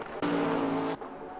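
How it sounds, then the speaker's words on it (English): Lamborghini GT3 race car engine screaming at Spa in a racing video game, a loud sustained high-revving roar that cuts in abruptly and holds for under a second before dropping away, with no talk over it. "So you can really hear that engine scream."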